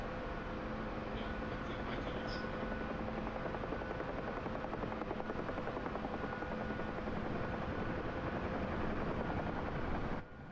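A Huey helicopter in the DCS flight game drones with a steady engine whine and rhythmic rotor thump, loud and unbroken for the full stretch before cutting off abruptly at the very end.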